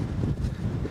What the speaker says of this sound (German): der Wind immer scharf von rechts oder links